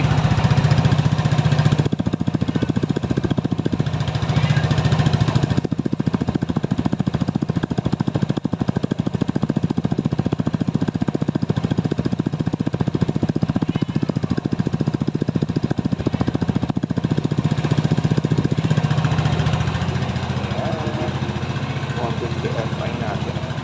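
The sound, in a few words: Easyride 150Fi motorcycle engine running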